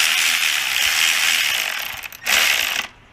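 A ratchet clicks rapidly as a brake caliper is screwed back onto a Honda CR250R, in two quick bursts with a brief pause between them, close and fairly loud.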